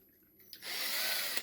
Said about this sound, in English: Chuck it right in your drill like such.